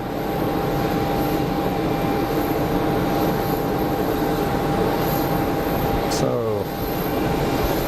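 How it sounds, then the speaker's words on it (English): Airliner rotating nose-up and climbing away on departure from Geneva Airport, a steady broad engine roar heard from a distance, with a short voice near the end. "rotated the aircraft for departure, nose up"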